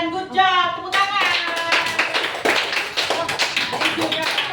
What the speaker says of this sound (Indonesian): Good job, tepuk tangan.